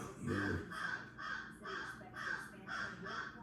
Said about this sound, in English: that's a bird in the chimney